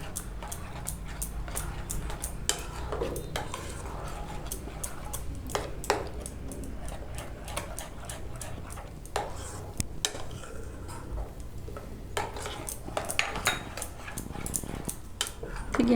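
Masala spices being stirred into yogurt in a bowl for paneer tikka, a steady run of scraping clinks and taps from a spoon against the bowl, close and continuous, with a dog barking and whimpering faintly in the background.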